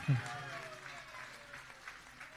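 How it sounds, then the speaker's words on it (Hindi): Applause from a crowd at a Jain community gathering, steady clapping that carries on under a voice speaking over a loudspeaker. "तालियों के साथ अनुमोदना करें।"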